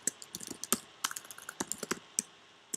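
Crisp, close computer keyboard typing as a property name is keyed in, a steady run of sharp clicking keystrokes with short pauses, no voices.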